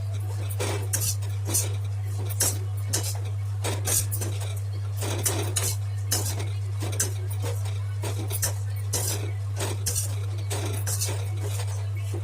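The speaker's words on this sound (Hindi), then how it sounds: "इसमें हम ये गोला भी डाल देंगे, थोड़ा गोला को भी भून लेंगे हल्का सा घी में।" Dried coconut roasting in ghee in a pan for panjiri, with a utensil scraping and clinking against the metal in steady, repeated strokes over a constant low hum.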